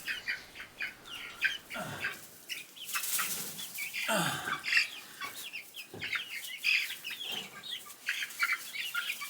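Chickens cluck and squawk continuously while being placed into a small transport cage, a busy, fairly close chorus of clucks with occasional rustling and wing flaps.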